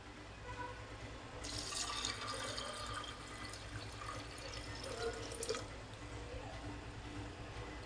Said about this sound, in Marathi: कुकरला आपण चणे शिजायला टाकू तर हे बघा चणे काढून घेतले मी ह्याच्यात आता एक तांब्या पाणी टाकणार